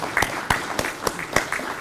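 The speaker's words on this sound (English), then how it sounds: "Give yourselves a great round of applause" A modest gathering at a student accessibility services awards ceremony claps. The claps are sparse and fairly distinct, coming in a loose rhythm at moderate loudness over a quiet room.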